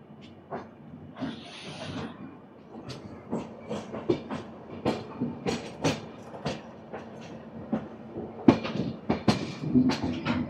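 Satavahana Superfast Express (12713) running on tracks out of Vijayawada toward Secunderabad, with a steady rolling rumble and repeated clickety-clack wheel beats over rail joints, heard from inside the train with no talk.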